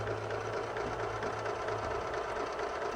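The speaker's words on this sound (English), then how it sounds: "most of what you're hearing is, of course, the bottom of this idler wheel rubbing on that screw" Magnavox Imperial Micromatic record player running at 78 RPM, its idler wheel rubbing against a screw: a steady close mechanical whir with a low rumbling drone and faint repetitive scraping, continuous throughout with no voices.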